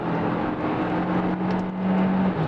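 A Kia Carnival minivan accelerates in sport mode on a highway, a steady in-cabin engine and road hum with a sustained low drone that firms up slightly as speed builds, and no voices.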